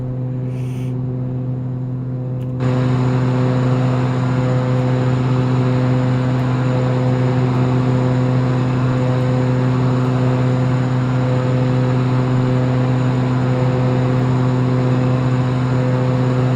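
The Evector EV-55 twin-turboprop's engine in X-Plane 11 drones loud and steady with a strong tonal hum, jumping up abruptly after a quieter start and holding continuously with no talk.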